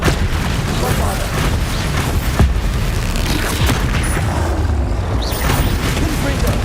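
Blasting explosion spell in the fantasy action game Hogwarts Legacy, with booming, crackling bursts throughout a busy, continuous battle mix of repeated impacts.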